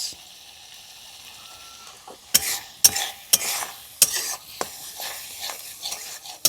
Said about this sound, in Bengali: অতিরিক্ত জলটা শুকিয়ে যাওয়া অবধি এক দু মিনিট নাড়াচড়া করে নিয়েছি